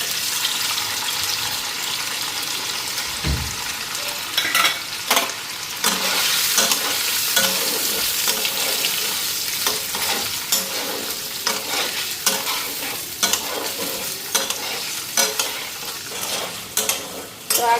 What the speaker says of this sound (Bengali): পনির নিলাম, পনিরটা আগে হালকা ফ্রাই করে নিই।